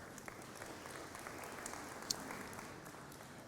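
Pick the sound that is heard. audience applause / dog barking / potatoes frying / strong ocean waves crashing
audience applause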